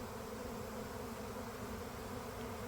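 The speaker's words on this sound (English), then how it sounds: "that's kind of a bunch of bees gathering up here" A swarm of bees gathering at a swarm box on a farm, producing a continuous, even buzzing drone that stays faint and steady throughout, with no voices.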